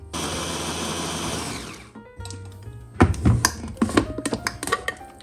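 A blender grinding lemon peels into flavored salt runs as a loud, steady whir for about two seconds, then stops, followed by close clattering, scraping and tapping sounds of peels being pushed down with a silicone spatula.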